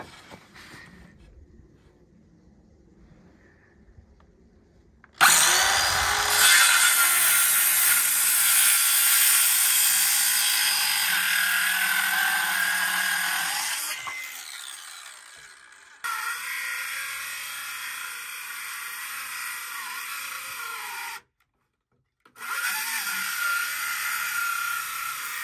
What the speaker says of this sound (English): Ryobi, I need a better saw.